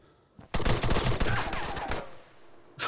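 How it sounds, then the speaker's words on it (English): Dense, loud volleys of gunfire and explosions rattle together in an Arma 3 insurgency battle, a sustained barrage that fades slightly before a final sharp burst. "There's so many explosions that can't even hear it."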